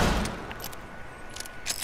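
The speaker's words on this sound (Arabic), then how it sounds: "خلص الطلقات وانتظر الين اخر طلقة" Gunfire from a glitched weapon in GTA 5 rings out as a few sharp, scattered cracks over a steady background rumble, fairly quiet and with no voices.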